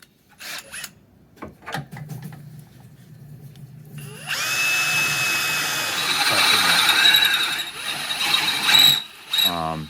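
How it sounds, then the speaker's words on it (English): A few clicks and clatters, then a power drill starts up and grinds steadily through metal with a harsh, whining bite, ending in a short burst of rattling. "Took me forever to drill that hole out."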